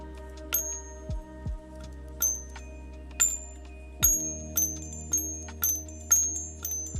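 A series of temple bells, each with its own pitch, struck one after another in a ritual setting. Bright, ringing strikes come in a slow, uneven rhythm and their tones sustain and overlap, clear and fairly close, with no talking.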